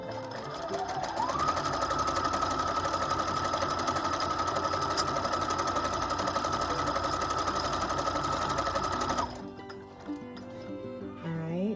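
A Husqvarna Viking #1+ sewing machine stitches a quilting pattern in a steady, whirring, rapid mechanical run for about nine seconds, then stops, leaving brief quiet and a faint voice.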